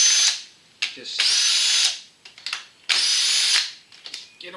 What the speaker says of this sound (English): camshaft valve cover can be removed really easily if you use a drill to just take out all the bolts